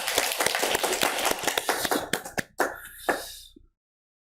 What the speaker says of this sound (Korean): 우리 감사와 영광의 박수를 함께 올려드리겠습니다.